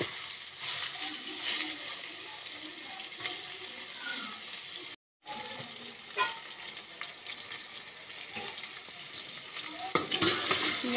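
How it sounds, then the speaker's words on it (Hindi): Green chillies frying with chicken in a karahi give a soft, steady sizzle with light stirring scrapes, broken by a brief silent gap midway and a few sharper clatters near the end. "1-2 मिनट के लिए आप ये हरी मिर्चों की भी बुनाई कर लें इसमें। चिकन के साथ।"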